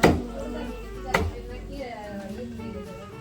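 A knife chops meat on a board at home for a biryani: two sharp, close cuts land about a second apart over a low background hum, with a faint clatter trailing after.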